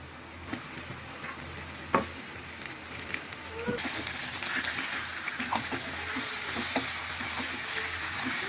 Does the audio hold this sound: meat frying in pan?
yes